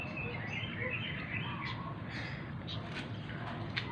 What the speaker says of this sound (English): There are birds flying